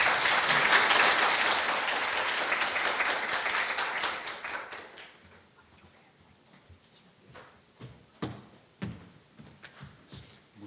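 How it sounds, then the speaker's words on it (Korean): A Korea University lecture audience gives loud applause welcoming alumnus lawyer Kim Young-jung; the clapping thins out after about five seconds into a few scattered, isolated claps. "큰 박수로 환영해 주세요."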